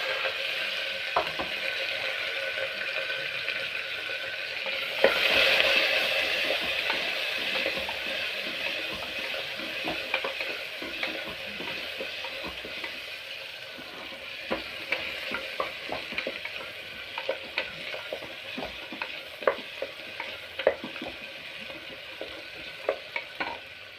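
Curry leaves and small shallots fry in oil for a moong dal sambar, with a constant close sizzle, a louder spitting surge early on and frequent scraping clicks from stirring.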